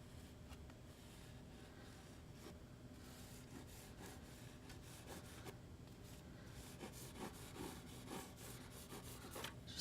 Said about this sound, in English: Just scrubbing in some color.